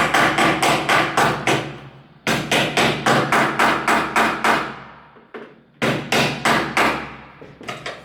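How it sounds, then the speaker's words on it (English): Rapid, sharp hammer blows strike close by in quick bursts on a drawer base, with a short pause between runs of evenly spaced hits. "once you're done, take your hammer"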